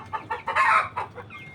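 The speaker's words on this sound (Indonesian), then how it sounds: "Ini ayam yang saya miliki, berjenis ayam lokal, 6 betina dan 1 pejantan." Local-breed chickens, six hens and a rooster, cluck nearby in quick uneven bursts, with one drawn-out louder squawk in the middle, close and alone without talking.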